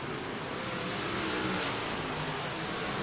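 A race car engine revs at a stock car race, a dense steady roar at moderate distance for a few seconds, with no talk.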